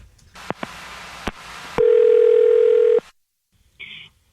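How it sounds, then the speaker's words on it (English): A telephone line produces a few short clicks and a steady dial tone for over a second, then silence and a brief higher electronic tone, loud and close with no talking. "I'm going to dial her phone number right now."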